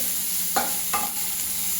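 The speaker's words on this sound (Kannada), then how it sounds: "ಟೊಮೊಟೊ ಎಲ್ಲ ಚೆನ್ನಾಗಿ ಬಾಡಲಿ." Tomatoes sauté in a pan for a mung bean dosa tomato chutney, with a steady soft sizzle and two brief stirring scrapes in the middle.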